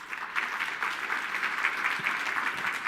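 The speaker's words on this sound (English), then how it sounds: "Could we give them an applause, please?" Audience applause at the official opening of the 33rd ACI Africa Annual General Assembly, steady dense clapping throughout, moderately loud with no talk over it.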